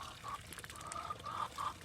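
Adult farm ducks quack in repeated short nasal calls at a moderate distance, several bursts spaced across the stretch over soft outdoor background.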